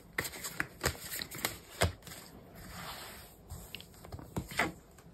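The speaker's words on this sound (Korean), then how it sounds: "한번 카드를 또 뽑아볼게요." Tarot cards are shuffled and drawn close up, a run of quick papery riffles, flicks and soft slaps with short gaps between them, and no talking.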